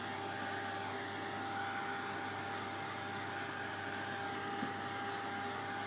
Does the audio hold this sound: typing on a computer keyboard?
no